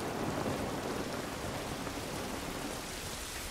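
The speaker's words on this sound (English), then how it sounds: "It's raining." Steady in-game rainfall in The Last of Us Part II hisses evenly throughout, a dense wash of falling drops with no pauses, fairly quiet and uniform.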